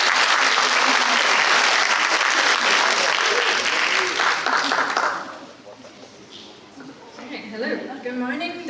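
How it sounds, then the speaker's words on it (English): Loud, dense audience applause welcoming a speaker at a talk on pre-hospital drowning care, sustained for about five seconds before dying away as a voice begins speaking. "Ladies and gentlemen, let's give her a big round of applause"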